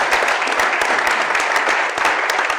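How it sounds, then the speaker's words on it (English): An audience applauds a panel at a hospitality real estate symposium, with steady, dense clapping that stays loud and even throughout, no talk over it. "Let's give a round of applause to this amazing panel."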